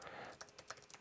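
Soft, quiet keyboard typing on a computer as entity names are entered in a Home Assistant setup, with several quick irregular key taps close by and no talking.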